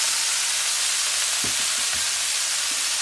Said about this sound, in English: Starting the grilled cheese for the burgers